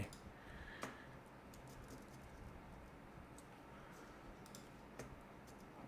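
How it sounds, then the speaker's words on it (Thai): Keyboard keys tapped at an irregular pace while working in Adobe XD on an augmented reality screen design, soft close clicks over a steady low room hiss, no talking. "แล้วก็ใช้คีย์บอร์ดเคาะซ้ายขวานะครับผม"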